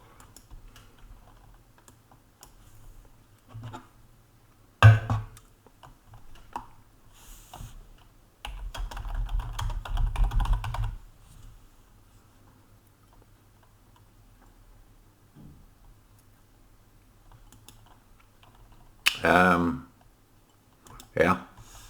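Scattered bursts of clicking keystrokes on a computer keyboard sound close and fairly quiet, with a denser spell of typing in the middle and long pauses between.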